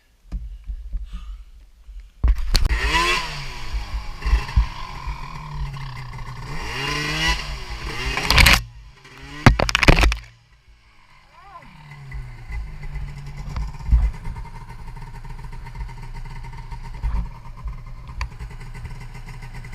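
Snowmobile engine revving and riding through thin backcountry snow in Nevada, loud and close with surging throttle bursts, a sharp cutoff near the middle, then a steadier running drone to the end.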